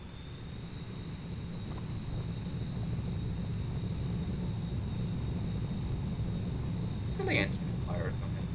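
A flight-simulator airplane engine at full throttle for takeoff, a steady loud droning roar that builds early and holds, with a brief voice near the end.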